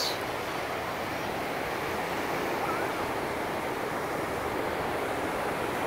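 Ocean surf at St. Augustine Beach washes in as a steady, broad roar, with wind buffeting the microphone throughout and no clear voices.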